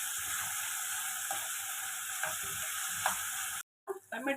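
Tomatoes with salt sizzle and fry steadily in a pan for an egg masala, a continuous loud hiss with a few faint stirring clicks before the sound cuts out briefly near the end.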